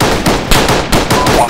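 Rapid bursts of gunfire from an Arma 3 infantry firefight on a crest, loud and close, several sharp volleys spaced through the moment with no talking over them.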